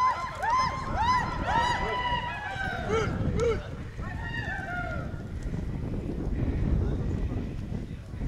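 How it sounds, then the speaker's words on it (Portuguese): Piebald mare running at a horse competition arena, with rhythmic hoof clip-clop on the ground and loud high neighs and whinnies early on, while a crowd and an announcer's voice sound in the background. "Égua Picaça."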